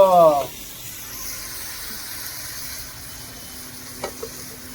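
Fish frying in a pan, a soft continuous sizzle after a brief louder burst at the start, with a couple of small clinks near the end.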